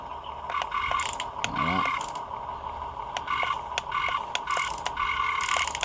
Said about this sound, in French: On peut serrer la pince.